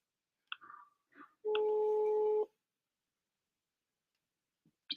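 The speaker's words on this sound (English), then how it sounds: "this is the sound for Italian ringing" Italian telephone ringing tone, one steady flat beep lasting about a second, heard close amid brief clicks and handling noises and otherwise quiet.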